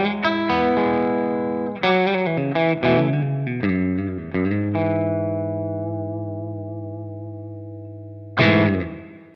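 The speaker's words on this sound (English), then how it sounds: "here's what it sounds like with the guitar and the little bit of reverb" An electric guitar played through a Revv D20 with a touch of reverb strums distorted chords, then lets one ring and slowly fade before a final strike.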